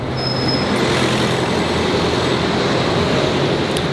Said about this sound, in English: You can probably hear some trains rumbling above me.